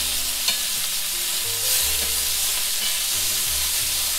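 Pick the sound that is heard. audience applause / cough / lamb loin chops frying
lamb loin chops frying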